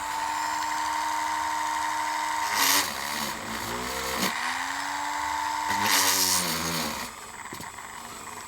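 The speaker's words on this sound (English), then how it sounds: "now we'll drill the larger holes." A small electric drill works larger holes into a model locomotive body for a DJH 2MT 2-6-0 kit, a steady whine that repeatedly bogs down and speeds back up as the bit bites through the metal.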